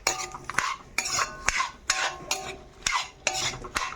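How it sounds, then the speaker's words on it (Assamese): Potatoes and peas frying in a pan, stirred with a utensil that scrapes and clinks in a regular rhythm about twice a second, with only a faint sizzle beneath, fairly quiet and close. "এইখিনি ধুনীয়াকৈ আলু মটৰখিনি দি এতিয়া অকণমান ভাজি ল'ম ধুনীয়াকৈ"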